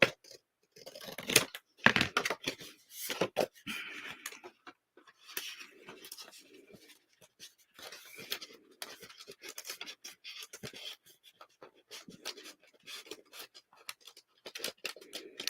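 Scissors snip and trim a piece of paper for a handmade journal, a close series of irregular cuts and rustles with brief pauses and no talking.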